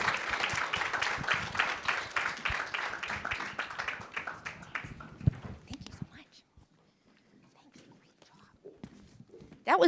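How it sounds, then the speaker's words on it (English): Audience applause for a panel at a parental rights symposium, a dense burst of clapping filling the first half and fading out by about six seconds, leaving quiet room noise with a few scattered claps and rustles. "another round of applause, please"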